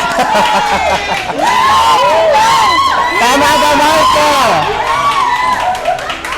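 Game show audience at a barangay gathering in Baliwag, Bulacan, clapping and cheering in a lively burst, children's shouts and excited voices mixed in, with a host talking over the noise.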